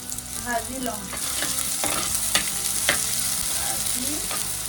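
Sliced onions fry in hot oil in a pan, a steady close sizzle broken by repeated scraping strokes of a spatula as they are stirred.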